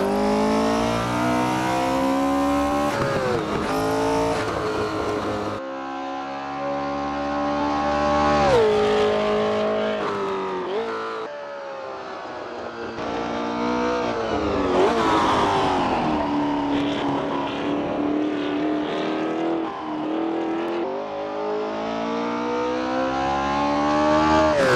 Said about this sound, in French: je vous laisse profiter désormais d'une vue en extérieur du tour de cette mythique piste des 24 heures du Mans avec cette 908 LH